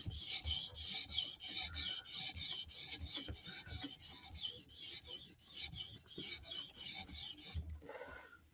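A Spyderco Slysz Bowie knife drawn across a 400 grit sharpening stone in steady, close rasping strokes, about two per second, each a short gritty scrape, ending with a brief squeak and a faint knock.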